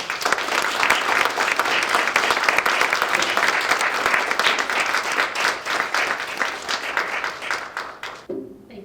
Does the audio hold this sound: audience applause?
yes